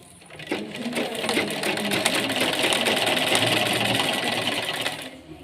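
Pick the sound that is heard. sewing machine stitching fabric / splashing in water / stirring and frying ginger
sewing machine stitching fabric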